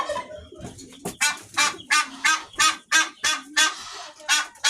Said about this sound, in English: Look at the poultry.